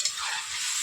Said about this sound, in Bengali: টকবক টকবক করে ফুটছে দেখো।